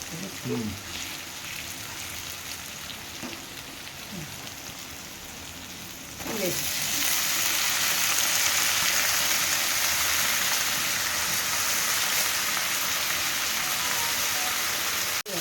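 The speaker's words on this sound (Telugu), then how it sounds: "బాగా నూనెలో ఫ్రై కావాలండి" Bitter gourd pieces fry in hot oil with onion and turmeric, giving a steady, hissing sizzle that swells loud and constant partway through, while a person talks over it.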